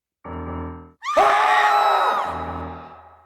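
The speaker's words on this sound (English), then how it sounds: "screams echoed through the empty halls as they ran for their lives" Frantic screams ring out through the empty halls of a haunted sanatorium: a sustained low wail first, then a loud, shrill burst of overlapping screaming that slowly fades, with a lingering hollow reverberation.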